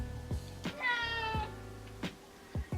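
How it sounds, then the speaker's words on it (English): An 11-year-old pet cat meows indoors, a clear nearby meow followed by short soft sounds, with no talking over it. "That's my cat."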